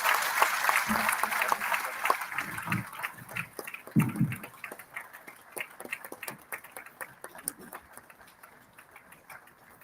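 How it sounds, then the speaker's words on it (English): A conference hall audience at the opening session of Social Business Day claps to welcome a speaker on stage, loud at first, then thinning into scattered claps, with brief voices mixed in. "Could we please have a thundering round of applause?"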